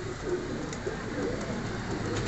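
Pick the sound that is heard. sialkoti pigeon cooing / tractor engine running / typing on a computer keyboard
sialkoti pigeon cooing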